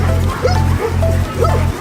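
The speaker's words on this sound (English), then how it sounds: "Not get eaten by a dog." A dog barks in a series of four quick, loud, close barks over a steady low hum, with faint whining between them.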